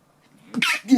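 A single human sneeze, a quick inhaled buildup followed by a sharp, close, loud burst and a short second expulsion, with no other sounds around it.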